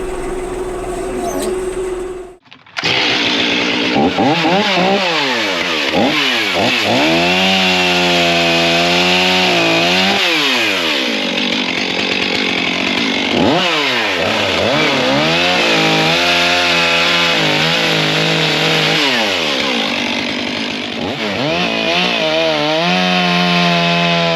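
A chainsaw trims nubs off logs being cut for firewood, running loud and near after a brief gap, its pitch rising and falling repeatedly as the chain bites in and revs back up.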